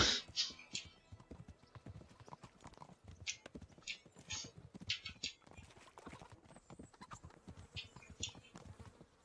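Rhythmic clip-clop of horse hooves on a hard surface in the video game Kingdom Come: Deliverance, steady and fairly close, with faint insect-like buzzing in the background.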